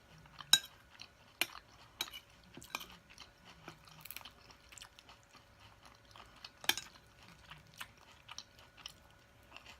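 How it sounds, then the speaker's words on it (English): Sharp clinks of a large spoon knocking against teeth during a meal of loaded nachos and salad, scattered irregular taps with quiet crunching and chewing between them, close and faint. "Spoon is big. That's probably why I keep hitting my teeth."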